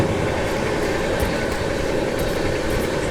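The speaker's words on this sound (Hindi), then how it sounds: "458 किलोमीटर तक ऐसे ही दौड़ती रहेगी ट्रेन" The Trivandrum Rajdhani Express (12431) runs at speed on the rails, a steady rumbling roar with faint rhythmic clicks of wheels over track joints, heard continuously from on board.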